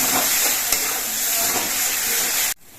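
Pomfret fish masala with turmeric and chilli powder sizzles in a pan, a steady, close, dense hiss that is broken by a faint stir and cuts off abruptly near the end.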